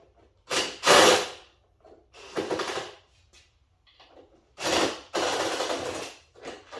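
Plastic body panels and stainless screws come off a modified KTM 390 Duke motorcycle in a series of sharp clattering, scraping bursts separated by short quiet gaps, close and fairly loud.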